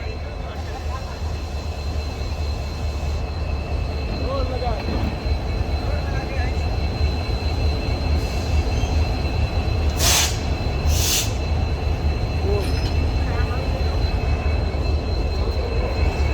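A train engine hauls its carriages along the track with a steady, loud rumble and low clatter throughout, a couple of brief higher bursts near the middle, while people talk close by.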